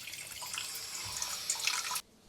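Room-temperature tap water streams steadily from a faucet for a flour dough, a close, even hiss for two seconds that cuts off abruptly.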